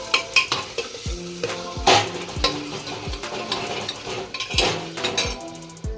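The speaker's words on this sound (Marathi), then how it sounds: "चांगला तेलामध्ये विरघळून द्यायचा हलवत राहायचं सारखं" Spices being stirred into hot oil for Puneri misal pav, with a steady crackling sizzle and repeated scraping and clinking of a spoon against the pan, close and fairly loud.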